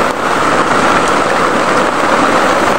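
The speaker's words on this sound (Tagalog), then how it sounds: "Sobrang lakas ng ulan mga kaiba." Heavy rain pours down, a dense, loud, even hiss of drops hitting surfaces that runs without a break and has no voices over it.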